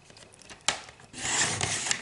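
Scissors snipping a scrap of paper for a handmade card: a sharp cut followed by a longer, louder rasping slice close to the microphone, with no voices.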